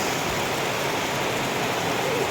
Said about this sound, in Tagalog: Ang lakas ho talaga ng ulan.